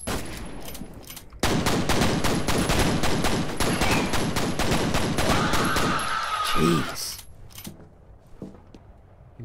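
Rapid automatic gunfire rattles in the first-person shooter game F.E.A.R., a loud sustained burst of repeated shots with mechanical clatter, tapering off toward the end.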